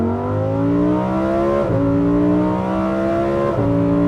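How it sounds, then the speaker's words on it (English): Lamborghini Huracan Sterrato with a naturally aspirated V10, revving hard through rising gear pulls with two quick shift dips, loud and close inside the car. "Yuri, give me some more revs, because I think this is actually going to be the last time we drive a naturally aspirated V10 from"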